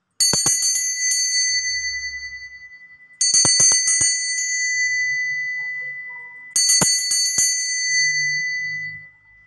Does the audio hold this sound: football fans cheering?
no